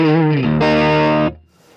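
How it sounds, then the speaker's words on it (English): Electric guitar driven through a Vertex tube screamer overdrive pedal, playing a single loud, gritty sustained note that shifts pitch briefly, then cuts off abruptly and leaves a short faint tail. "you can hear that tube screamer circuit start to kick in"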